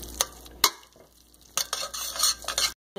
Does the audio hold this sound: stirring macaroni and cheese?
yes